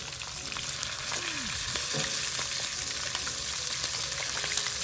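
Mackerel fish pan-frying in hot oil, a steady close crackling sizzle with scattered pops and a brief pan scrape partway through, no voices.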